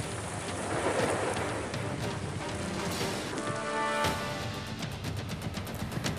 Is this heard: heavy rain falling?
yes